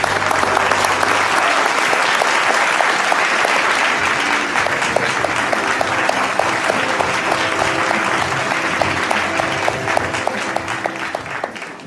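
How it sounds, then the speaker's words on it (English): Sustained loud applause from an awards ceremony audience honouring a scientist, dense continuous clapping lasting many seconds with music and faint voices underneath. "and a huge round of applause"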